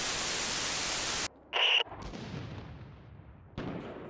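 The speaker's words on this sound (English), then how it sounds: "We're being bombarded." In the video game Six Days in Fallujah, an artillery bombardment begins with a loud roaring blast. A sharp burst and quieter rumbling follow, then another heavy impact near the end.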